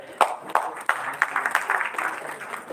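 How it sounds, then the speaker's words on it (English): Audience applause at a dental legacy lecture welcoming the session chairpersons, a scattered run of claps with sharp bursts, moderately close, over a faint murmur of voices. "A huge round of applause as we welcome them all."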